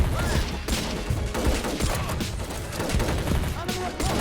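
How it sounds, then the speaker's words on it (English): Sustained automatic fire from an M60 machine gun in the Army Men Battle Simulator video game, a dense, continuous rattle of shots with battlefield noise throughout. "Got a nice M60 right here."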